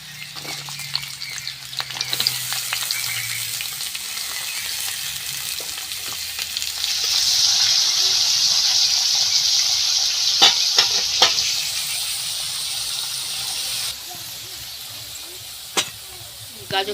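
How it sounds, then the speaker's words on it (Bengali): Chopped carrots fry in hot oil in a kadai for vegetable fried rice, giving a steady close sizzle that swells louder midway, with a few sharp clinks of a spatula against the pan. "তেলের মধ্যে কুচি করা গাজর আমি দিয়ে দিচ্ছি"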